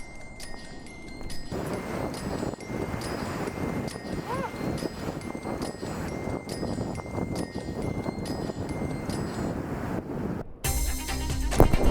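Ocean waves and surf break on a cold beach at night, a steady, loud wash of rushing water with wind buffeting the microphone, continuing for several seconds before an abrupt change near the end.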